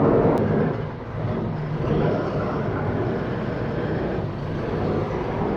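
A brand-new Ashok Leyland Partner truck engine revs up with a steady, loud, broad rumble that dips briefly and then holds its drone throughout.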